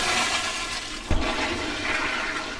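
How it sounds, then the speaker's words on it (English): A toilet flushes with a sudden gurgling whoosh of rushing water, then a steady hiss as the bowl refills. "When the toilet flushes, the toilet also sneezes"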